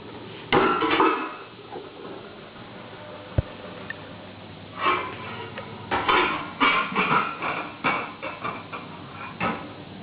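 A cooking pot is handled in a home kitchen, giving sharp metallic clanks and clatters in short bursts separated by quiet pauses, close to the microphone.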